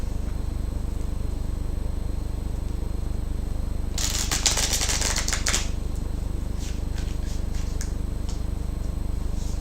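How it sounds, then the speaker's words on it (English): A deck of tarot cards is shuffled in one brisk riffle burst of crisp flutter, followed by a few lighter card taps and slides, heard close over a steady low background hum with no talking. "I'll shuffle cards"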